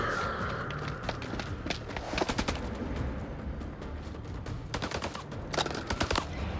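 Rapid gunfire rattles through combat in the horror game House of Ashes, bursts of sharp close shots in clusters over a noisy, chaotic background.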